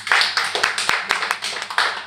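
A small audience at a talk claps briefly, a short burst of scattered, fairly close hand claps without building into full applause.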